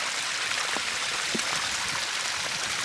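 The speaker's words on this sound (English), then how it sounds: "And we have a river flowing down here" Storm runoff water flows down a road in a steady, rushing hiss, with faint splashes and droplets scattered through the continuous wash.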